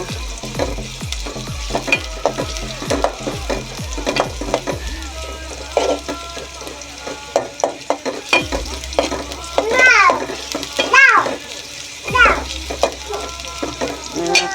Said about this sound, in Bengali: পেঁয়াজটা কিছুক্ষণ লাগবো, নাড়াচাড়া করে লাল হলে তার পর্যন্ত অপেক্ষা করবো।